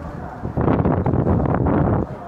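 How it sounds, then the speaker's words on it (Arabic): Strong wind at a village sports-ground football pitch buffets the microphone in a loud, rumbling roar that surges up for about a second and a half, then drops back. "رياح قوية في هذا الأثناء بملعب القرية الرياضية"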